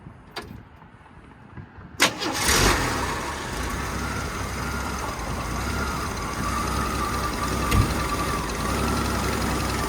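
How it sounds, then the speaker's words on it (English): A 1981 Jeep CJ-7 Laredo with a 4-speed cranks briefly, fires up and settles into a steady, rumbling idle, heard up close with a few mechanical clicks around it. "Let's fire it up."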